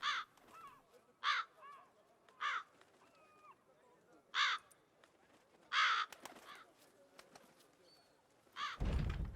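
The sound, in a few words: crow cawing in the video game The Witcher 3: Wild Hunt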